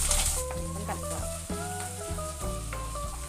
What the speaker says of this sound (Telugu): ఉల్లిపాయ ముక్కలు వేగిపోయినాయి